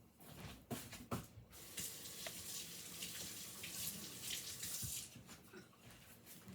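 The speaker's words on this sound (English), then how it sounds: "Let me rinse these off." Peeled hard-boiled eggs rinsed under a running kitchen tap, a steady hiss of water splashing with brief clatters and shifts in the flow, fairly faint and close.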